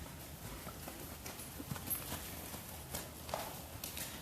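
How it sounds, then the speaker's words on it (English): Hooves of a ridden horse clip-clopping at a show, a faint, steady walking rhythm of soft hoof falls repeating throughout with no talk over it. "you watching this beautiful rider ride this beautiful horse"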